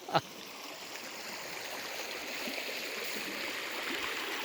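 A farmland river flows steadily where a buffalo sits in the water, a constant close wash of running water after a single sharp click at the start.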